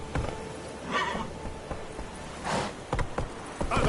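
Horse in the game Witcher 3 whinnies and neighs amid clip-clopping hoofbeats, a few broad bursts over steady ambient hum with scattered sharp hoof clicks.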